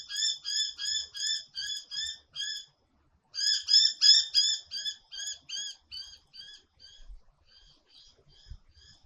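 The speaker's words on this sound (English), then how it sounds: "except for the birds" Birds call outdoors in quick runs of bright, repeated chirps, pausing briefly before another burst and tapering off toward the end. The calls are fairly close and clear against a quiet background, with no talking.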